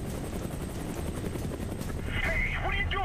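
A helicopter flies in the video game Prototype 2, its rotor and engine making a steady, loud broadband drone that runs throughout. Brief voice-like tones rise over it near the end.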